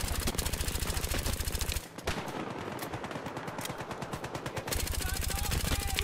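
Rapid automatic fire from a suppressed rifle in a Battlefield Hardline multiplayer match, fast even bursts of muffled shots, a pause of scattered in-game sounds, then another long sustained burst.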